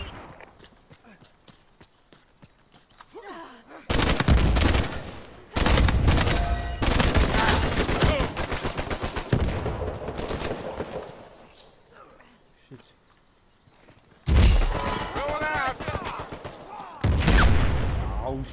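Gunfire in the Uncharted 4 multiplayer video game, loud bursts of rapid shots and clattering impacts in several heavy stretches with quieter gaps, while players talk over it.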